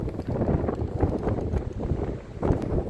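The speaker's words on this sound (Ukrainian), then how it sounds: "Вибачаю за вітер зразу" Wind buffeting the microphone in heavy, rumbling gusts that rise and fall for a few seconds, with no speech.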